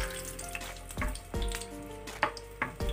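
Cashews frying in oil in a pan, a steady sizzle interrupted by several louder clatters and stirring scrapes, close up with no voices.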